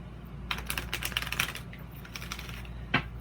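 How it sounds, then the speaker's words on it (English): An oracle card deck being shuffled by hand, close and fairly quiet, with bursts of quick crisp riffling and tapping clicks that come and go in short irregular runs. "And I shuffle for a little while before I get started."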